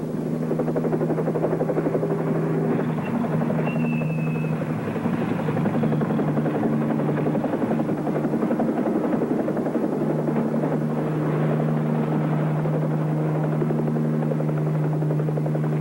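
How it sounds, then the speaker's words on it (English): A helicopter flies close by with a steady, loud rotor drone and engine buzz that holds throughout, with no voices present. "Watch the copter. It'll show us the way."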